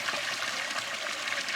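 Spring water trickles and splashes steadily at the Cold Springs water source on the Pacific Crest Trail, a close, continuous bright gurgle with no voices.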